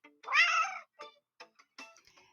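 A cat meows for a storybook scene, one long drawn-out meow followed by a few short, softer mews, close and clear against silence.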